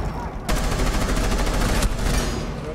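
Gunfire from shooting out floor hatches in Rainbow Six Siege: sustained rapid bursts of shots right up close, loud and continuous, with a brief break partway through.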